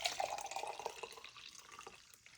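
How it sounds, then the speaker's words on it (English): Hot water pours into a mug with a light, trickling splash that stays steady for a couple of seconds, close and fairly quiet, with no talking. "I have some hot water. So I'll go ahead and pour it in there"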